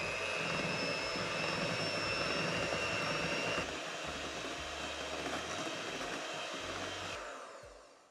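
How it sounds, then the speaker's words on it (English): Steady high-pitched whirring of an electric hand mixer whisking ice cream base until thick and fluffy, running continuously and close, changing tone partway through before switching off near the end. "now you're gonna grab your electric mixer, or you could use a stand mixer for this"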